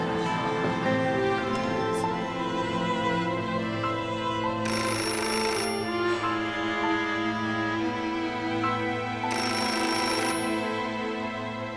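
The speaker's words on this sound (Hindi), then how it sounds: "खुदा के लिए फोन उठाएं नादरी साहब।" An unanswered telephone rings over and over in a drama scene, the bright electronic trill bursting out in two clear spells over a steady bed of background music, loud and close.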